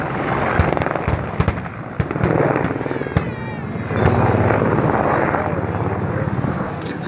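Military helicopter at the Čáslav air show with sharp explosion bangs and pyrotechnic blasts over steady rotor and engine roar, a dense loud outdoor display.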